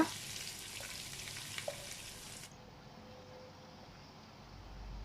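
Sliced onions and spices frying in hot oil for biriyani masala, a steady close sizzle that drops in brightness partway through, with a couple of faint clinks.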